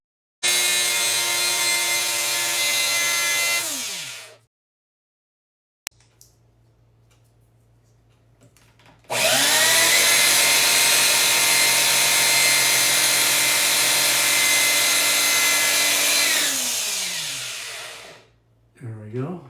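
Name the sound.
sanding wood with 600 grit sandpaper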